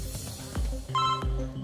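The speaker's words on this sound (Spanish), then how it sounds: "Ahí está, teléfono." A telephone rings on the Argentine game show Trato Hecho: steady electronic tones in short bursts over a low studio hum, with a couple of dull thumps.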